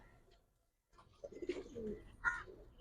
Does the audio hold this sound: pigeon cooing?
yes